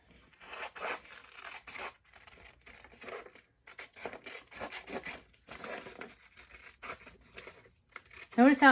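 Scissors snip and rustle through paper in short, irregular bursts, close up, with quiet pauses between cuts.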